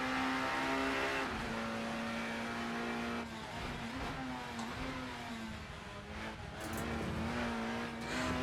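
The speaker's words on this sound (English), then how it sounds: "They're the best sounding touring cars you'll ever hear in your life." Super Tourer touring car engines in the Assetto Corsa video game scream at high revs with shifting pitch as cars race past, gear changes and tire noise mixed into a continuous loud roar.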